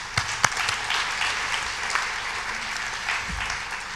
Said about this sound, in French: et on peut s'applaudir en tout cas.